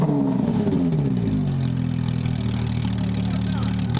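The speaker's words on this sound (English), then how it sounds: "it still has the engine, the stock 4-liter, normally aspirated 6-cylinder" A stock 4-liter, normally aspirated six-cylinder car engine revs hard and holds a deep, throaty roar, steady and loud throughout with no talking.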